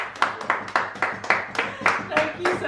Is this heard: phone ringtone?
no